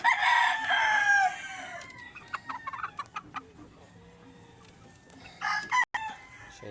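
A sweater butcher cross gamefowl rooster crows loudly and close in a small backyard fowl yard, one long strained crow followed by scattered clucks and short calls from other chickens.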